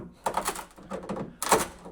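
Dried-out original door seals on a 1975 Ford F150 crackle and snap in quick irregular bursts, close up, like cereal popping in milk.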